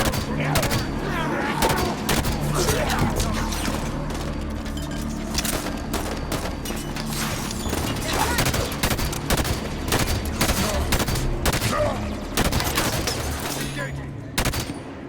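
Rapid, dense gunfire in the video game Halo 5, sustained bursts of automatic shots and thumps running continuously and loudly, with occasional voices mixed in.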